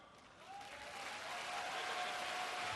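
Steady applause from a crowd at a sumo tournament presentation of the Prime Minister's Cup, continuous and gradually swelling over the whole stretch with no talk over it.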